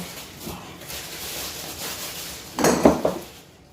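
Four glass bottles bought at IKEA in Sweden knock and clink together as they are unpacked, with soft handling rustle first and then a brief, louder cluster of close glassy clinks near the end.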